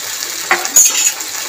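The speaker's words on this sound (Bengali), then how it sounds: "ভালো করে মশলাটাকে কষিয়ে নেব।" Spice paste of ground cumin, coriander, chilli and turmeric is fried and stirred in a pan for a potato and paneer curry, a short close sizzle with a few scraping clinks of the spoon.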